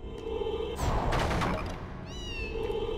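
Cat meowing inside the Harry Potter PS1 video game, a few rising mewing calls heard over dense game sound effects and a bursting clatter, with steady background music throughout.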